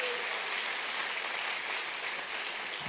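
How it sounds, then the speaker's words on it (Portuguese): A church congregation applauds during a sermon, a faint, dense, continuous patter of many hands heard from a distance, with no talking over it. "Agora aplauda Jesus, que é maravilhoso isso."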